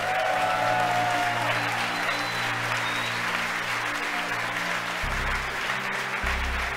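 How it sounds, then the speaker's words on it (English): Applause in SpaceX launch control during a Falcon Heavy launch, steady sustained clapping over a low, constant hum of room equipment, with no break in the applause. "You can hear the applause behind me"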